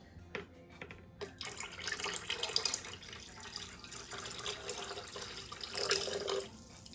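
Cranberry juice pours into a batch of sweet tea, a steady liquid stream with small splashes that swells and then tapers off.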